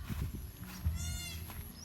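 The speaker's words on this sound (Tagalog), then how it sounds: "James, yung kambing mo nanganak, tatlo." A goat bleats in a wavering, quavering cry midway through, with soft low rustling and background noise around it.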